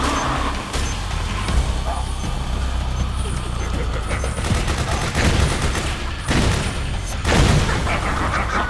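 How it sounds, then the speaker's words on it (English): Sustained gunfire aimed at the player in the video game Metal Gear Solid 4: Guns of the Patriots, a dense, loud barrage of rapid shots with heavier bursts standing out. "You didn't waste any time shooting me."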